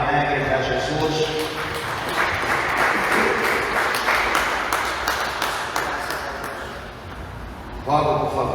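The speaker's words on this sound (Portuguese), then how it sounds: "dê uma salva de palmas bem alegre para Jesus" A church congregation clapping joyfully for Jesus during a service, a dense sustained round of applause lasting several seconds, with voices mixed in and a louder burst near the end.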